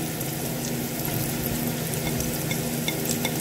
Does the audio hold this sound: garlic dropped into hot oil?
yes